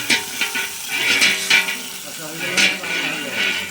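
Curry being sautéed (kosha) in a pan gives soft sizzling with bursts of stirring scrapes, close by, with faint voices in the background.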